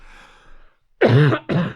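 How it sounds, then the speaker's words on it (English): Two harsh, loud coughs close up, the second shorter, after a faint breathy sound. "Sorry, still got the cough."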